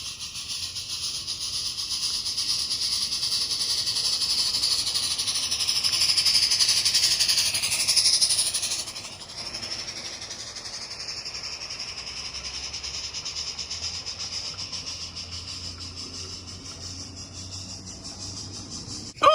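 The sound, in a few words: Cobi WWII RC live steam army train running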